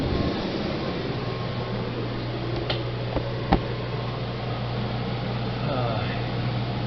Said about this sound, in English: Got the air conditioner running, and it is